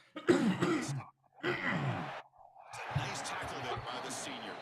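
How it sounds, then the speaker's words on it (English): A man covering a Razorbacks football game lets out a few short coughs or throat-clearing bursts in separate quiet bursts, with a soft stretch of background noise after them. "I'm so sorry if you're hearing me cough."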